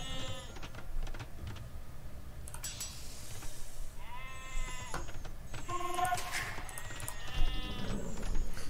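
Sheep in Age of Empires 2 bleat in several short calls scattered over steady game ambience, with clicks and interface sounds between them.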